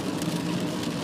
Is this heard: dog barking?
no